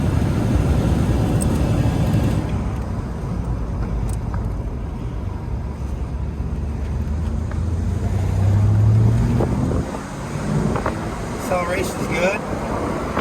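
A 1994 Ford Mustang engine runs under load, a steady low drone that swells and rises in pitch around the middle as the car accelerates, then settles back, loud and close throughout.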